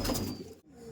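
Pigeons cooing at a Belgharia pigeon-fancier's loft, tournament-quality Madras birds, a soft low murmur across about a second with a brief dip partway through, fairly close and moderately quiet.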